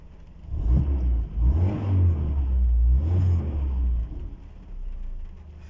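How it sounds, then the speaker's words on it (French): A 1984 Toyota Celica ST engine cranks and catches on the first compression, then revs up in a few loud surges before settling to a steady idle, close by. "j'appuie à fond sur l'accélérateur et je démarre. Voilà, et ça démarre"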